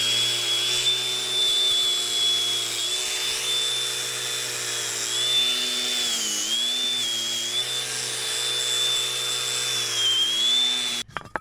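A wire wheel chucked in a drill scrubs the threads of a tractor bolt, a continuous high whirring whine that dips and rises in pitch as pressure changes, then cuts off abruptly at the end.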